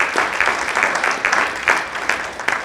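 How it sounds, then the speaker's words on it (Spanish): A church congregation bursts into loud, close, sustained applause, with many hands clapping densely in an even wash of sound. "Dale fuerte el aplauso aquí para Dios."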